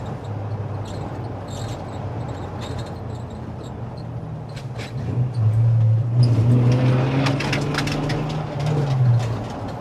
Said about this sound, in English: Project cars, they just rattle and squeak